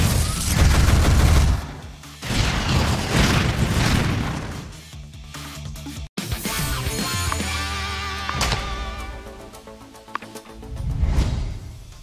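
A missile launch and its explosions in One Punch Man Road To Hero 2.0: heavy booming blasts and whooshing bursts, loud at first and then fading into a rumbling, ringing tail.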